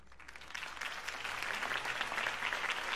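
A crowd applauds after a campaign speech, the clapping swelling from soft to a full, dense roar heard from some distance.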